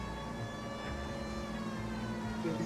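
A steady electronic police siren in the video game L.A. Noire wails continuously at moderate volume over a low rumbling car engine drone, with no voices.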